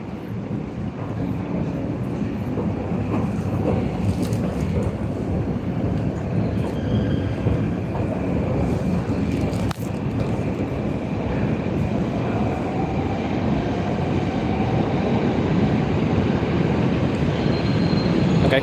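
A Moscow subway train rides through a tunnel at night with a loud, continuous rumble and rattle of wheels on rails, faint squeals rising now and then over about nineteen seconds.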